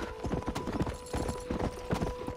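Horse hooves clip-clop steadily in the Red Dead Redemption video game, an even trotting rhythm of hoof strikes at moderate distance, with no talking.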